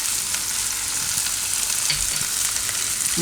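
Paneer and boiled corn salad with salt, chat masala and pepper being mixed in a bowl, a continuous close rustling, crackly texture throughout, steady and fairly loud with no talk.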